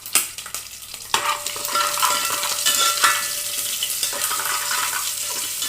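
Ginger and garlic fry in a pan for a yam tamarind curry while a spoon stirs, scraping strokes and light clatter over an even sizzle, close and moderately loud, with no voices.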